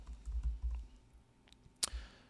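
Computer keyboard typing, a short soft patter of keystrokes followed by a pause and a single sharper click.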